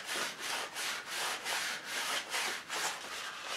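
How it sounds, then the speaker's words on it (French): A paper towel is rubbed back and forth over an AM6 moped engine cylinder in steady rhythmic strokes, a close, dry, hissing scrub repeating about every half second. "Moi, je vais mettre un coup de sopalin"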